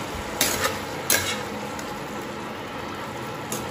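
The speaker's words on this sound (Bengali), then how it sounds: "দেখো এখন মশলাটা কষাচ্ছি" A spice paste for crab curry sizzles and fries steadily in a pan, with a few sharp scrapes and clinks from stirring, close and fairly quiet, with no talking.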